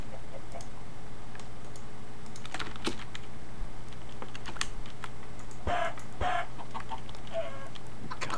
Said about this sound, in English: Speaking of which, there's chickens.